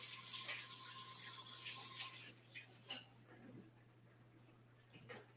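A kitchen water tap runs as a hand is rinsed under it, a steady close hiss of flowing water for about two seconds before it shuts off, followed by a few soft knocks and handling sounds, with speech during the clip.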